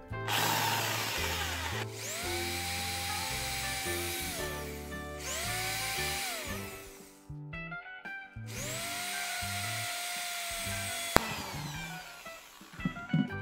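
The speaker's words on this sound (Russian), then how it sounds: "И теперь можно приступать к сверлению." A power drill whirs up close in three long bursts, its pitch rising and falling with load, separated by brief pauses and a sharp click.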